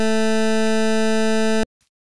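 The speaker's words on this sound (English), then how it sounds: "An example, pulse waveform at 220 Hz sounds like this." A synthesized pulse waveform at 220 Hz with a 20% duty cycle sounds as a loud, steady, buzzy tone that stops abruptly after about a second and a half, followed by faint brief noises.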